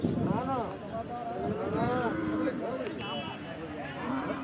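Cattle and buffalo at a busy hill livestock market in Bankura low and moo repeatedly, close and loud, under a steady crowd murmur with people talking nearby.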